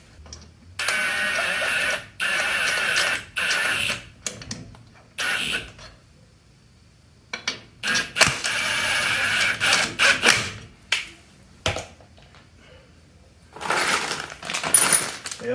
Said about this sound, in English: let me go grab some acorn lug nuts like these